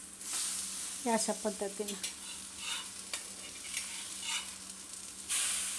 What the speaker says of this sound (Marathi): मिडियम गॅसवर एकदम खरपूस भाजून घ्यायचे